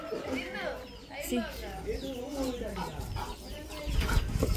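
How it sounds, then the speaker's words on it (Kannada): Chickens on a poultry farm cluck softly in the background while a person talks close by through most of the moment. "ಕೋಳಿ ಉಂಟು ನೋಡಿ, ಇವರು ಕೋಳಿ ಸಾಕಣೆ ಮಾಡ್ತಾರೆ."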